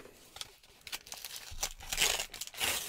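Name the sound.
tearing open a Pokemon card booster pack wrapper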